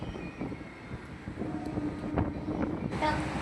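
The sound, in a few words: train arriving at Majerhat station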